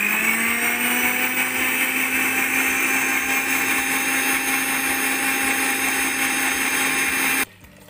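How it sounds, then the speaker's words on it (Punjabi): A countertop blender whirs steadily as it mixes sugar and instant coffee for cold coffee, a loud, even motor drone with a high whine that runs for about seven seconds and then cuts off abruptly. "ਵਿੱਚ ਵਿੱਚ ਬੰਦ ਕਰਕੇ ਅਤੇ ਚਲਾ ਕੇ ਇਹਨੂੰ ਚੰਗੀ ਤਰ੍ਹਾਂ ਜਿਹੜਾ ਮਿਕਸ ਕਰ ਲਾਂਗੇ ਖੰਡ ਅਤੇ ਕੌਫੀ ਨੂੰ"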